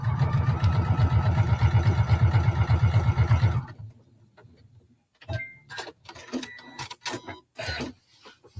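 A sewing machine runs steadily for about three and a half seconds, stitching a Hong Kong seam finish on fine fabric, then stops; scattered clicks and handling noises follow.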